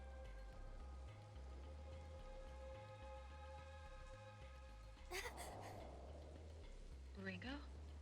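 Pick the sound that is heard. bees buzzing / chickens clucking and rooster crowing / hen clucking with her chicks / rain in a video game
rain in a video game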